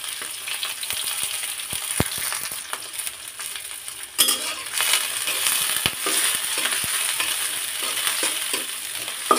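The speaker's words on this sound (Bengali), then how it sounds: "কাঁচামরিচ আর পেঁয়াজটা আমি একটু ভালো মতো ভাজি করে নেব।" Onions and green chillies frying in a pan, a steady sizzle with scraping stir strokes and occasional clinks of a utensil against the pan, close and continuous without talk.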